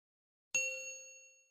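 A single bright bell ding rings out after a moment of silence, then rings and slowly fades away.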